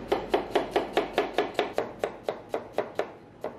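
Knife chopping onions on a cutting board in a home kitchen, about fifteen crisp, evenly spaced chops in a steady quick rhythm, close and clear with no talking.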